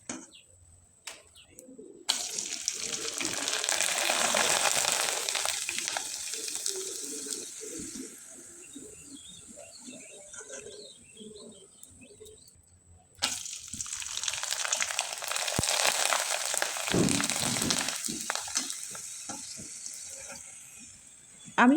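Jackfruit seed chips frying in a little hot oil give a steady, loud sizzle that fills two long stretches, cut off by a brief gap, with no voices over it.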